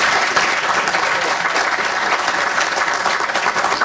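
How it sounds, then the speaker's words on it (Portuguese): An audience at a Brazilian retail-loss forum gives dense, even applause, a close, full wash of many hands clapping at once without a break. "e o Ricardo Ribeiro, salva de palmas."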